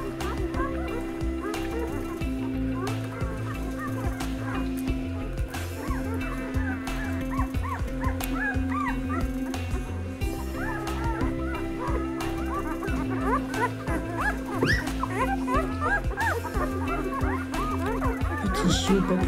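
Week-old puppies whimper and yip in a busy, continuous chorus of short high cries, close and fairly loud, with steady background noise beneath and no talk.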